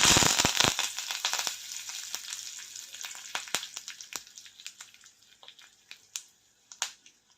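Mustard seeds, cumin and curry leaves crackle and pop in hot oil for a tempering, a dense burst of sharp spits at first that thins into scattered, irregular pops, close and fairly quiet.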